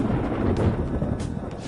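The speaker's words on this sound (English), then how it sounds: "It sounds like it's going to rain." Thunder rolls through a Persona 5 Royal scene as a continuous deep, moderately loud rumble with a few sharper swells, with no speech over it.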